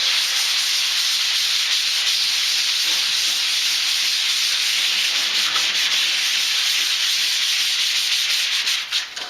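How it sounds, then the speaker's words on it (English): Number 80 wet and dry sandpaper is worked with a soap and baking soda mixture over the bare metal of a 1955 Chrysler Windsor, making a continuous close, loud rasping hiss with a steady rhythm and no speech. "go over it real well with this number 80, with this mixture of soap and baking soda"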